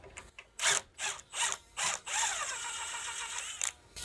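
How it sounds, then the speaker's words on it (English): A handheld impact gun spins a loose bolt out of a rear shock mount on a 2018-2024 BMW G01 X3, running in several short bursts followed by one longer whir, close up and alone. "I'm just using the impact gun with my fingers behind the head of the bolt to spin that out and walk that out."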